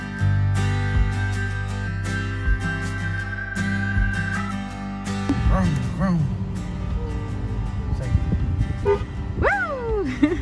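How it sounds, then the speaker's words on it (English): A car horn honks in short toots among steady background tones, with a child's and an adult's voices chattering over it during a family summer outing. "Little one honking at you."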